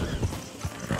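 Horse hooves clip-clopping with a short whinny in Red Dead Redemption 2, brief and fairly close, with rhythmic thuds under faint background sound.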